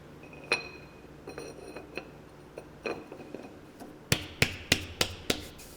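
Hard clicks and clinks sound as a lid is set onto a hydraulic press mold packed with about 1.5 kilograms of Himalayan salt, scattered light knocks followed by a quick run of five sharp, bright taps.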